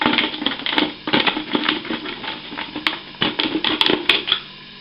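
A blade crunches and snips through the base of a plastic 2-liter soda bottle in a dense run of crackly cuts and rustles, with no talk.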